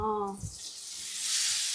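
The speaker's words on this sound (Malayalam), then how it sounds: "വറ്റൽമുളക് ഒരു 2-3 എണ്ണം കീറി അങ്ങ് ഇട്ടു" Dried red chillies, torn open, hit hot oil with a loud, steady sizzle and crackle that swells toward the end, after a brief voice at the start while frying a Kerala-style tapioca dish.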